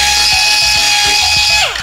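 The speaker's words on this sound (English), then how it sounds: "It's a carbide tip burring tool. I got it on a straight angle drill." A loud, close, high-pitched whine of a carbide burr on a straight angle drill spinning steadily on a 1969 Volkswagen Karmann Ghia, then winding down as it is released.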